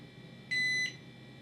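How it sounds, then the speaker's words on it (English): A single short electronic beep, about a third of a second long, from the keypad of a Kaer gun safe, clear and steady over faint room noise. "when you put those in, it's going to make a beep sound"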